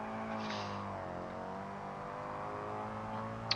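A rear-wheel-drive car in BeamNG.drive accelerates with a steady, humming engine tone that rises gradually in pitch, heard alone at moderate level until a faint click at the end.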